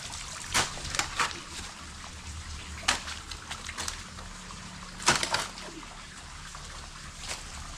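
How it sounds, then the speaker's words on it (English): Water flows in an outdoor stream in an African village, giving a soft, steady rushing hiss broken by several brief splashing bursts close by. "that is the sound of the water flowing."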